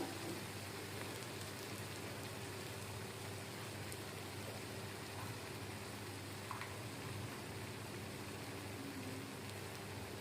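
Small raw fish and onions frying in oil for a spicy fish curry, a soft continuous crackling sizzle that holds steady and fairly quiet throughout, with no voices.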